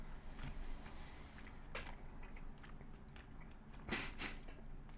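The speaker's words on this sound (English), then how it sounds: "Sorry, I hope the chewing's not too loud." Someone chewing a bite of grilled rib-eye steak cooked on a George Foreman grill, soft wet mastication close to the microphone over a low room hum, with a sharper crunchy burst near the end.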